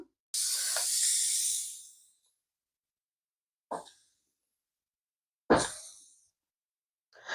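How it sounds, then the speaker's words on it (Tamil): A spray bottle hisses water onto soil planted with ginger in short bursts: one long spray, then a few quick squirts separated by silence, close up. "இதுக்கு மேலே நாங்கள் இப்போ தண்ணி தண்ணியால் கொஞ்சம் ஸ்ப்ரே பண்ணி விட போகிறோம்"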